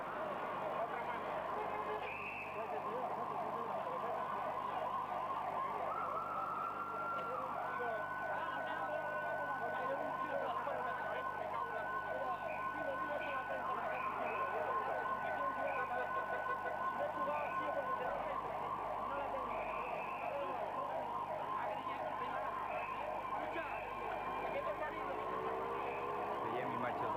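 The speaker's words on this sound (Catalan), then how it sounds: "Ahora viene una ambulancia" An ambulance siren wails steadily at a distance on a street during a 1984 arrest scene in Catalonia, sustained throughout beneath crowd noise and people talking.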